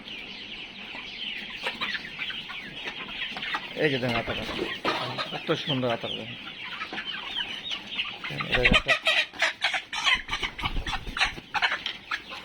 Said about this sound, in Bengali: এই যে দেখছেন, এই যে কালো মুরগি